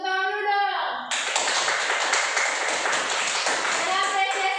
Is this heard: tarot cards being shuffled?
no